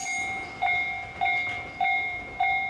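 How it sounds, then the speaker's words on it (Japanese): A Tobu Skytree Line out-of-service train rolls slowly through Kasukabe Station with a regular clunk of wheels over rail joints, while a level crossing bell rings steadily in the background. "スカイツリーラインの上り回送が通過です"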